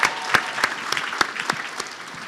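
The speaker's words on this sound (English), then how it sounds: "Let's get a huge round of applause on that one." Audience applause in an indoor real estate event setting, a dense run of clapping that starts strong with sharp individual claps and holds steady, fairly close, with no talk over it.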